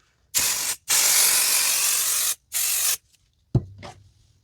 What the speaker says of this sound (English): And I'm going to spray the back side again.